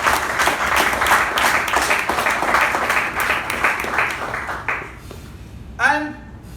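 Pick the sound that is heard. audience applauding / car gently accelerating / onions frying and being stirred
audience applauding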